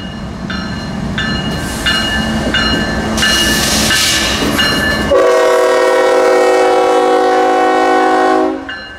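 A Bone Valley local freight train in Mulberry, Florida, crossing the SAL main at a railroad diamond, sounds its horn loud and close: several short blasts, then one long sustained blast over rumbling rolling stock.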